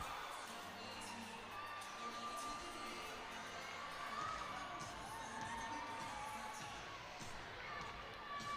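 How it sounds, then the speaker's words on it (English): Arena crowd at a gymnastics meet with Air Force, Denver and Nebraska, a sustained faint roar of cheering and shouting with scattered whoops and thumps. "And the crowd is staying excited."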